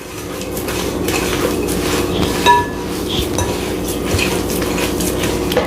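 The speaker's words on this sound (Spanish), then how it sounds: "Deshacer muy bien el azúcar, la sal y la manteca." A utensil scrapes and clinks steadily against a bowl while creaming sugar, salt and lard together, with a single louder knock partway through over a low background hum.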